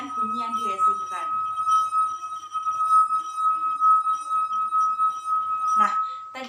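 A wet finger circles the rim of a glass drinking glass, drawing out a steady, pure ringing tone that holds for several seconds at even loudness while a person talks over it at the start and end.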